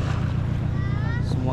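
A small passenger boat riding on the water, with a steady low engine rumble, wind and water noise and brief voices over the top.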